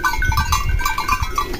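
A goat bleats repeatedly out in the brush, with several short wavering calls in a steady rhythm, close and moderately loud over outdoor background noise.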